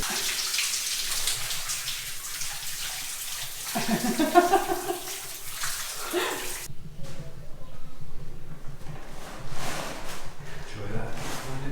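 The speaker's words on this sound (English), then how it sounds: "And now, a free hot shower." A hot shower running at a roadside stop on a van trip, a steady hiss of spraying water with splashes and shifts in flow, while a voice talks faintly at times.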